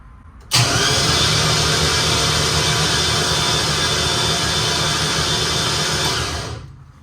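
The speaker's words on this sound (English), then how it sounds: "we'll go ahead and crank her over and see what she makes" A Z2H8 Camaro drag car engine cranks over on its starter in one continuous, loud whir that holds steady for about six seconds before winding down.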